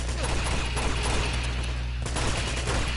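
Dense, continuous gunfire from a PS4 shooter game rattles on for the whole stretch, loud and unbroken, with heavy low rumble underneath.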